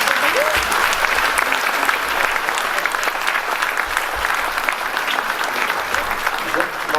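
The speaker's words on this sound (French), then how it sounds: "Et j'aimerais qu'on les applaudisse une nouvelle fois." A crowd at a town's New Year's greetings ceremony in Gisors applauds its communication staff, with dense, loud and sustained clapping from start to finish and faint voices underneath.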